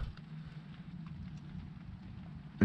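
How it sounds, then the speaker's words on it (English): Rain falls at night in a forest as a low, steady patter and rumble, even and continuous, with a sudden louder knock at the very end. "and listen to the rain."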